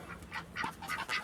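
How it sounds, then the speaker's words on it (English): Ducks kept on an Arizona homestead quacking close by, several short nasal calls in quick uneven succession, with no talking. "Yeah, ducks are doing good."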